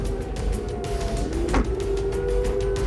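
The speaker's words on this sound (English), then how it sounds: "we have a siren now." An air-raid warning siren in Haifa during wartime, a steady wailing tone held under a constant rumble of outdoor noise with a brief swell partway through.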